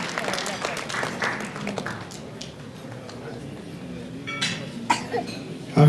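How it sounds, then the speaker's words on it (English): Audience at a Sunni Razvi Society community fundraiser applauds pledge donors with a short burst of scattered clapping that quickly thins into murmuring, a cough and room noise. "A round of applause for them, please."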